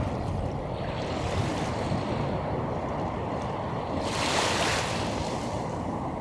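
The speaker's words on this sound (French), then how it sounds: "Il y a vraiment que le bruit de la mer et des vagues" Sea waves washing onto a calm beach on Réunion island, a steady continuous wash of surf with a brief swell of louder breaking water near the end, with no voices.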